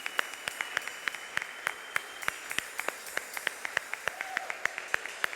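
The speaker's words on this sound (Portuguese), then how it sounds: "Vamos dar uma salva de palmas para Jesus?" A church congregation claps in praise for Jesus during a Portuguese worship service, sharp evenly spaced claps ringing out at a steady rhythm, fairly loud and close, with no voices over them.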